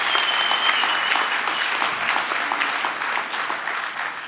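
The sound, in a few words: audience applause at a graduation ceremony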